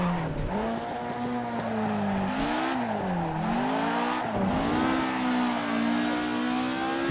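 Race car engine in Assetto Corsa revving high and loud and close, its pitch climbing, dipping with gear changes and climbing again in a continuous howl with no talking.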